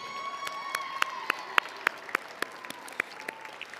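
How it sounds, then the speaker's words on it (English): Applause from an audience at a state science and technology fair awards ceremony, with a loud, dense wash of clapping and scattered sharper single claps standing out nearer, along with faint cheering, sustained through the whole stretch. "Let's give our power structural and technical members a round of applause as they leave the stage."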